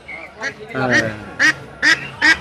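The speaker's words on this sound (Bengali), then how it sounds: "রাজহাঁস রাজার হাঁস আর কটা আছে এখনো ছয় সাতটা আছে" Domestic geese at a village market honk nearby in a quick series of loud, nasal calls, about five in a row, following a brief murmur of voices.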